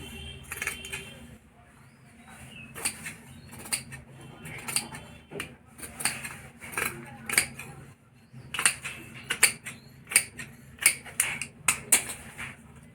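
Scissors snip through blouse fabric laid over its lining, a series of crisp cuts and clicks that start sparse and grow quicker and louder toward the end, with no talking.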